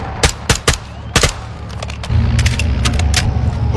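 Video game gunfire against the Mexican cartel troops, with several loud sharp shots in a quick irregular burst, followed by a sustained low rumbling roar of heavier fire or vehicles.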